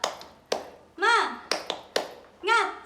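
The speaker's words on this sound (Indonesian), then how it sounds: "Tepuk semangat." Elementary classroom of fifth graders doing a rhythmic clap chant led by the teacher: sharp grouped claps in a steady pattern alternating with children's voices calling out in unison, near and lively.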